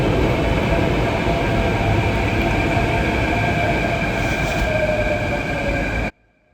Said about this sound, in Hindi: थोड़ी देर इंतज़ार के बाद आखिरकार मेट्रो आ गई है।